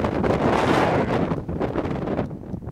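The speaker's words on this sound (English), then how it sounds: "So windy." Strong wind buffets the microphone on a hike, a loud, continuous rumbling roar that dips briefly near the end.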